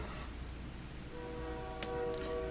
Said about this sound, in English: Oh, can you hear a train on the backyard of my house?